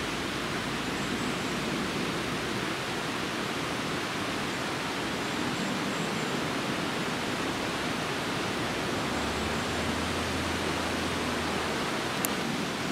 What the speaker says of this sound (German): der Bach, den sie überspannt, hat ein Wahnsinns-Canyon gegraben im Laufe der Jahre